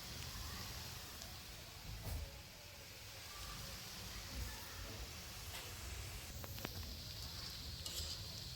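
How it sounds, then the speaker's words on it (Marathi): Spinach and onion fritters fry in hot oil with a soft, continuous sizzle and crackle, faint and steady, with occasional light clinks from a utensil. "परत एकदा मी राहिलेली तळून घेतली सगळी भाजी"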